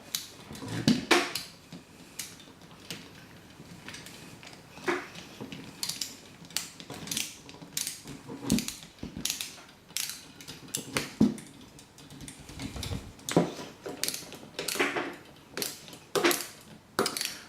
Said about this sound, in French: Puis vissez tout simplement.